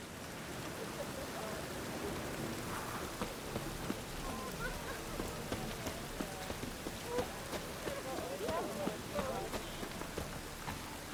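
Steady rain patters on a surface with scattered drops in the Novigrad city of the video game The Witcher 3: Wild Hunt, a constant wash of noise throughout with a few faint voices murmuring underneath.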